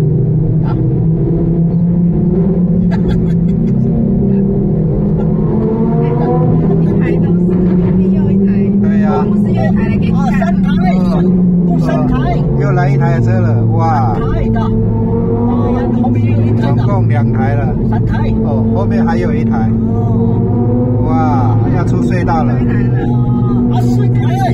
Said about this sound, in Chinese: 在隧道遇到超跑，一两千万的跑车，声音好大声哦